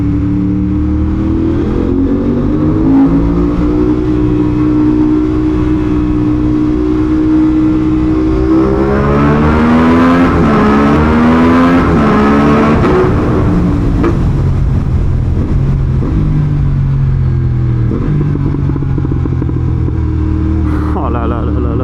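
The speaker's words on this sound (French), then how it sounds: "Trouvez-moi un meilleur son en 400 que cette moto" A 400cc motorcycle engine revs hard inside a tunnel, loud and close, with rising and falling pitch sweeps that peak mid-way before settling back to a throbbing idle-like drone.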